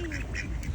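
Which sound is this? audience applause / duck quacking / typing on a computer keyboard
duck quacking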